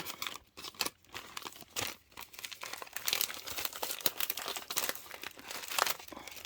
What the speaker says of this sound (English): Sorry about the rustling. I know that some people don't like the rustling.